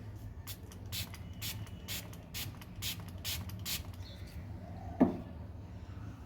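Rose water sprayed from a pump bottle in quick, evenly spaced hissing bursts, about nine in a row, then a single soft knock near the end, with a steady low hum underneath.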